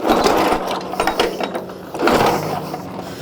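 Mechanical ratcheting clatter of a 1935 Indian Sport Scout motorcycle being kicked over without starting, two strokes of gear and spring noise, close and loud, with no engine catching.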